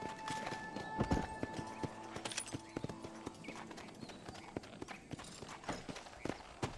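Horse hooves clip-clop at a steady gallop across ground in the Red Dead Redemption video game, with quick rhythmic thuds close by and a faint game background beneath, no talking.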